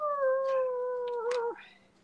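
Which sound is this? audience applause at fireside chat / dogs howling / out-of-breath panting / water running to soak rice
dogs howling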